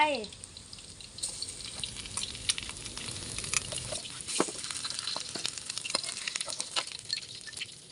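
Garlic and red curry paste stir-frying in a hot pan, a steady close sizzle with scraping stir strokes throughout and a brief splash of liquid near the start.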